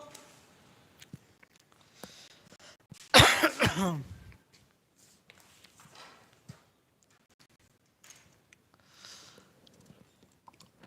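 A single short burst of coughing from a teacher during a chemistry lesson on carbon compounds, loud and close, standing out against near silence with faint scattered background sounds.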